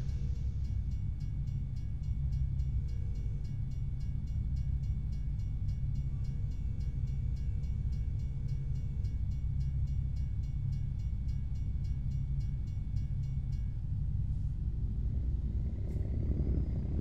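A long freight train rolls past in American Truck Simulator, a steady close rumble of railcars with rhythmic clatter lasting throughout, then easing off near the end as other traffic noise rises.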